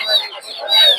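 Native (deshi) chicken chicks at a market stall give shrill, high chirps, two close peeps within a second, heard near and clear.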